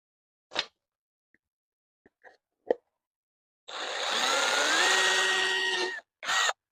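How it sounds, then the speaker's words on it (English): Cordless drill boring a small pilot hole into a plastic catfish jug, a single sustained whirring burst of about two seconds up close, followed by a brief second spin, after a few scattered handling clicks. "Drill one little hole."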